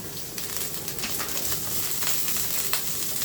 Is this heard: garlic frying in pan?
yes